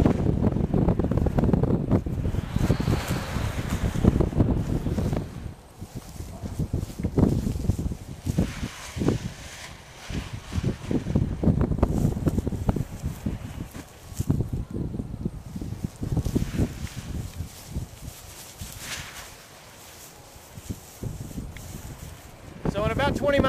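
Wind of about 20 mph rushes over the microphone while a 3-metre Rush Pro power kite is flown, gusting and buffeting in uneven swells, with quieter lulls and a faint rustle, with no speech heard.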